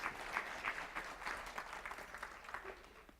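An audience claps at a speaker series event, a brief burst of fairly faint, dense applause that tapers slightly over a few seconds.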